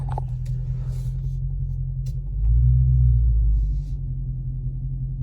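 A 2020 Dodge Charger Scat Pack with a 392 Hemi rumbles with a deep, steady low growl while driving, swelling louder for about a second midway before settling back to a constant drone.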